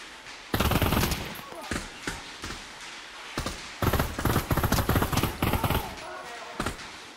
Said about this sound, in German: Warum schießt der eine Mann auf mich?